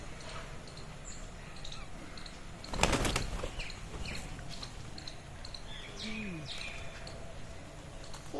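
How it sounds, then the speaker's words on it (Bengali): Pigeons flutter in to be fed biscuits, with a sudden burst of flapping wings near the start followed by scattered soft coos and chirps against quiet background noise. "তোমার তোমার পায়রা আসছে"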